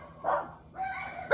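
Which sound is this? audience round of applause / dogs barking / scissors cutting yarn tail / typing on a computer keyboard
dogs barking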